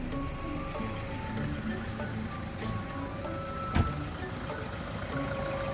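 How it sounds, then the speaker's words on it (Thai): A steady low diesel engine idle from a Toyota Hilux Vigo 3.0G pickup truck with 182,000 km rumbles evenly throughout, with a faint sharp click partway through and no talking. "เดี๋ยวลองสตาร์ทเครื่องยนต์ฟังเสียงกันดูนะครับ"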